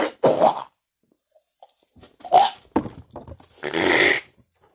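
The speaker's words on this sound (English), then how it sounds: "I'm sure you don't want to watch me blow my nose." A person blows their nose in several forceful, wet bursts separated by short pauses, close and loud with no talking.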